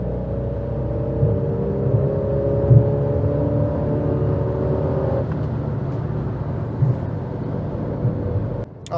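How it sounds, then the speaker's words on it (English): A 2019 Fiat Panda Cross TwinAir two-cylinder engine accelerating on an open road, a steady buzzy drone rising in pitch from inside the cabin, fairly loud and continuous with no talking. "So I'm just going to drop it to and accelerate,"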